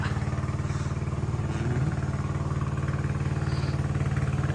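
A motorcycle engine idles nearby with a steady, throbbing putter that continues unchanged throughout.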